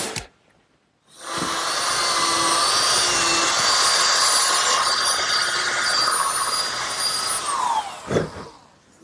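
A radial arm saw with its motor tilted just under 5 degrees and arm swung about 30 degrees bevel-cuts a wooden table rail, a loud steady whine running several seconds before spinning down.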